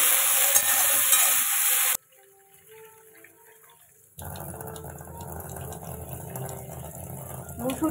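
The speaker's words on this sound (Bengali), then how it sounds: "আর এই আলু বেগুন শিম ভাজা ভেজে নেবো" Potato, eggplant and flat beans sizzle and hiss as they fry in a pan. A loud stretch comes first, then a quiet pause, then steady frying noise returns. No one speaks.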